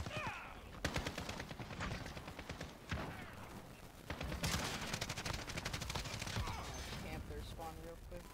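Rapid automatic gunfire in the video game Modern Warfare, with dense bursts of shots crackling almost continuously and sharp louder reports between them.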